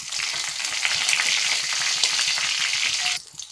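Dried red chillies sizzle in hot oil with mustard seeds while tempering a Kerala potato stir-fry, a steady, close, crackling hiss that holds evenly before cutting off abruptly near the end.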